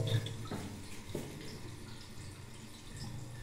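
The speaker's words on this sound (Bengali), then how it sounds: "জল যাওয়ার শব্দ হচ্ছে।" Water rushes steadily into a home water heater geyser through its newly connected pipes, a soft, continuous flow with faint drips and gurgles, fairly quiet and with no voices.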